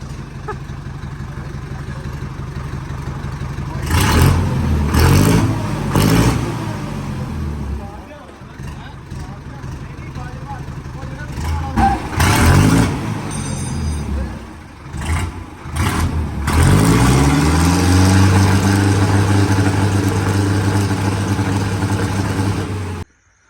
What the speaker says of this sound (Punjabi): ਟਰੈਕਟਰ ਲੈ ਕੇ ਆਏ ਆ ਦੇਖ ਲਓ ਕਿੰਨੇ ਜਣੇ